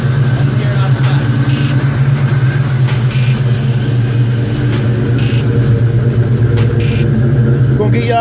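A loud, close engine drones steadily with a deep exhaust rumble, while voices talk over it throughout.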